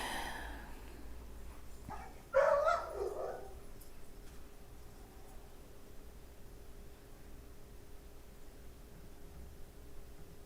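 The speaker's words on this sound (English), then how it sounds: "There's a noisy dog outside." A dog barks outside: a single short, muffled bark rises over a steady hum of room noise, then nothing but the quiet background for the rest of the span.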